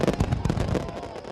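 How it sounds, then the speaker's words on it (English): A loud, dense cluster of fireworks explodes in quick succession, booming crackles tumbling over one another at a Halloween display on an island railway. "They love Sir Topham Hatt's fireworks"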